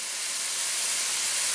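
Vegetables including zucchini sizzle in a hot pan with a steady, bright hiss that holds evenly throughout.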